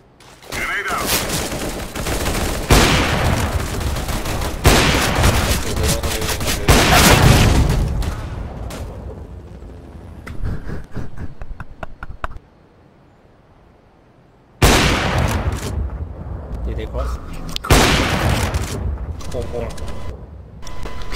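Counter-Strike on Dust 2 erupts in loud gunfire and grenade blasts: dense bursts of shots and booms in several clusters, a short near-silent gap, then more firing, with players' voices mixed in.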